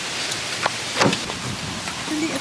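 Rain falls steadily on a home garden in America, giving a constant broadband hiss with a few faint drops and knocks over it; no speech.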